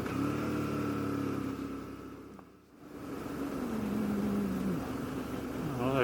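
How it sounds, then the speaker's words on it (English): Four-wheel drive vehicles rumble past on a dirt road, a steady mid-pitched engine drone that dips briefly, then swells again as another vehicle comes by, fairly close, with no talk over it. "Oh, got some more 4-wheel drives."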